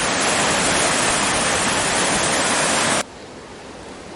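A fast-flowing park creek running high after heavy water, a steady dense rushing roar heard close by that drops abruptly to a quieter hiss near the end.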